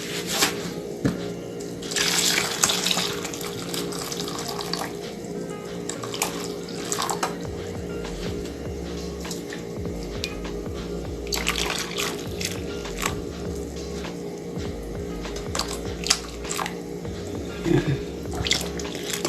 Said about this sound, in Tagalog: Ito na, ibuhos natin.